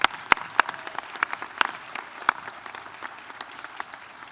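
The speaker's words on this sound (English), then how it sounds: "let's give them another round of applause" Scattered, thinning applause from an audience at a Women's Memorial 20th anniversary celebration: a handful of sharp individual claps stand out, then taper off into lighter, sparser clapping.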